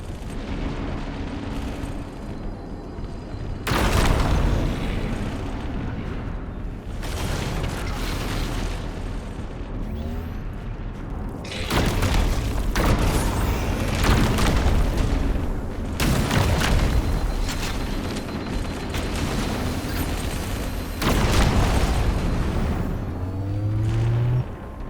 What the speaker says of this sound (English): That did it. The pulse generator overloaded.